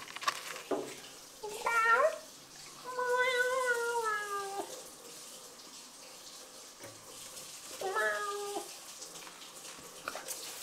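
A cat meows several times, drawn-out and plaintive, with running water trickling in the background.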